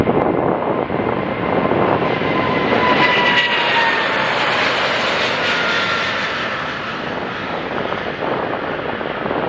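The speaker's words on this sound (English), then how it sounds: "the 777-300 special color is going taxiing to take off to London Heathrow" A Saudia Boeing 777-300 in special livery taxis toward takeoff for London Heathrow, its jet engines giving a loud, steady roar that rises and then holds, with some wind buffeting and no voices.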